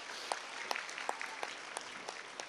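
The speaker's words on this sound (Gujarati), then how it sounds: "તાળીઓથી આપણે એનું સ્વાગત કરવા." A crowd at a folk storytelling program claps to welcome a police inspector, a sustained, fairly distant patter of applause with a few sharper individual claps.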